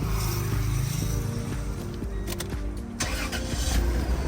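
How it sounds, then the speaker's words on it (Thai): A 2002 Toyota Granvia 3.4 automatic engine cranks and catches, then settles into a steady idle hum with a low mechanical rumble. "ขอฟังเสียงเครื่องยนต์หน่อยครับ"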